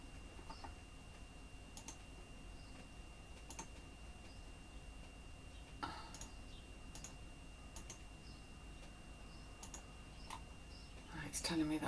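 Computer mouse clicking in a quiet room: sparse, crisp single clicks spaced irregularly a second or two apart, faint against a low background hum, with some louder handling noise near the end.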